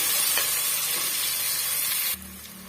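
Onion and green chilies sautéing in a pan for a chicken gravy: a bright, steady sizzle with soft stirring, then an abrupt drop to a quieter hiss near the end; nobody speaks.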